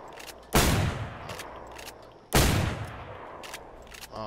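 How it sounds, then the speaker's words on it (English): Two sharp, loud bursts of video game gunfire, each dropping into a decaying rumble, spaced about two seconds apart with fainter pops in between. "Is that you shooting again?"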